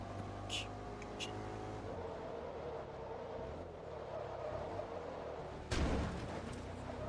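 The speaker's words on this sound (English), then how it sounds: "Absolutely demolished the front of my car." A car crashes in the Forza Motorsport 2 video game, with a sharp impact thud near the end cutting through a steady engine drone and a muffled voice underneath.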